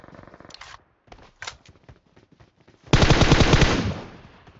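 PUBG Mobile gunfire: a few scattered single shots and short bursts, then a dense, loud rapid stream of automatic fire that fades out toward the end.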